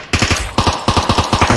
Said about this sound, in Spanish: Se ha oído antes los tiros muy cerca.